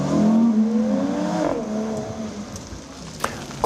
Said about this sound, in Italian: È il rombo dei motori